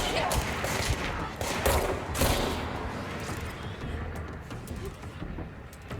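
Gunfire in the video game Control, a dense run of rapid shots blending into a loud, continuous fusillade across the whole stretch with a few heavier thumping bursts.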